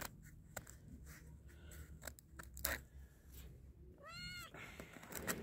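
A cat meows once, a clear rising and falling call, set against scattered clicks, rustles and low background rumble outdoors near a vegetable garden channel, with no speech.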